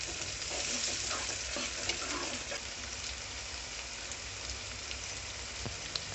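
Egg curry masala frying over a medium flame for Kodi Gudla Iguru, a steady hiss of sizzling with light stirring scrapes running evenly throughout, close by and with no talking.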